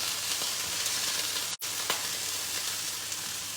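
Chicken breast searing in a hot pan, a continuous loud sizzle and hiss broken by a brief dropout partway through.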